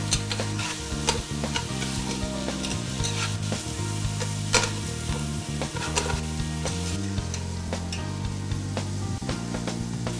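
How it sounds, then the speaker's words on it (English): Onions and carrots sauté in a pan while being stirred, a constant close sizzle broken by repeated scraping and clacking of the spoon against the pan. "I'm just going to stir these and saute them for about 4 to 5 minutes until the onions are tender"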